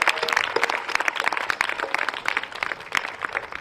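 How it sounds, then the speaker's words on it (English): Audience applause at a community gathering celebrating artists of color, a steady wash of many hands clapping at moderate distance, dense and sustained throughout with a few sharper claps standing out. "So can we just give them a round of applause?"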